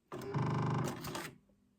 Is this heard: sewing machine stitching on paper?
yes